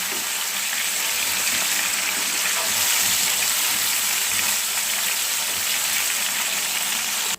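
Pomfret fish frying in hot oil, a steady, dense, loud sizzle that holds evenly from start to finish with no voices.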